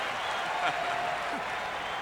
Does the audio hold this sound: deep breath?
no